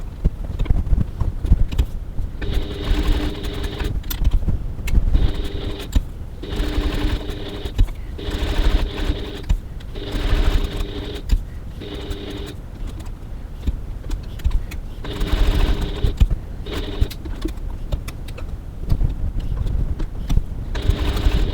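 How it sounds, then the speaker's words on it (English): Sewing machine back tacking stitches on a handbag strap, several short bursts of rapid mechanical stitching separated by brief pauses, close and loud with a low background hum and no talking. "Just back tacking to lock my stitches."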